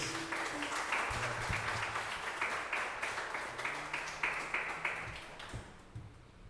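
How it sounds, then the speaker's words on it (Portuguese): A church congregation claps together during a worship service, a moderate, fairly rhythmic round of applause with some tonal background sound, tapering off at the end. "Aplauda o Senhor mais uma vez."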